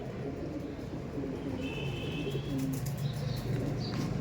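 Low, soft coos from Andhra breed pigeons repeat through a steady background murmur, with a few faint higher chirps near the end.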